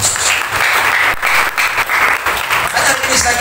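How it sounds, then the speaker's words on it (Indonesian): A church congregation at a men's revival service in Kupang applauds loudly and briskly, a dense burst of close clapping lasting a few seconds with brief dips. "Tepuk tangan yang terbaik buat Tuhan Yesus Kristus"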